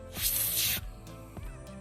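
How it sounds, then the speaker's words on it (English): MAKO oil aerosol sprayed hard up under the tilt and trim mechanism of an outboard motor: a loud, steady, close hiss for under a second that cuts off, followed by faint handling noises. "It's got a nice hard spray, so just a nice even coating up underneath the tilt and trim mechanism."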